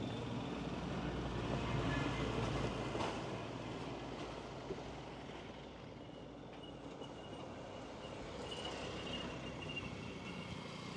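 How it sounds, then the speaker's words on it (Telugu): A train crossing a bridge makes a continuous, moderately distant rumble and rattle that holds steady and swells slightly at times. No voices are heard. "ట్రైన్ వస్తుంది."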